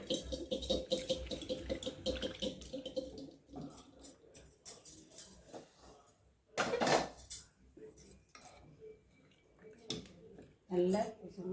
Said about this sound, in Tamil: அதுக்கு நல்லா ஒரு சொம்பு தண்ணி ஊற்றிக்கலாம்